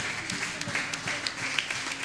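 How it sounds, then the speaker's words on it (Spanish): A church congregation claps together in a short burst of dense, even applause during a Spanish-language service. "Denle un aplauso al Señor, hermanos."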